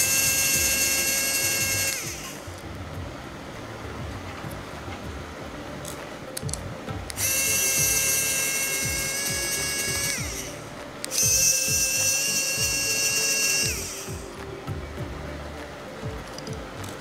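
A SEQURE ES666 electric screwdriver motor whirs in three high-pitched bursts of a couple of seconds each, close and steady, with brief quieter gaps between them and no speech.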